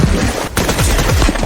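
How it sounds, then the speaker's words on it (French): An AK-47 rifle fires rapid automatic bursts, loud and close, with sharp repeated cracks in quick succession and a tiny pause between bursts. "J'ai tiré plusieurs rafales d'affilée."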